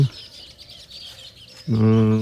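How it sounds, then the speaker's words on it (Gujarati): A sparrow chirps in a quick burst of bright, harmonic calls near the end, after a stretch of quiet background hiss on a rooftop terrace at morning. "એ ચકલો કલબલ કરી રહ્યો છે."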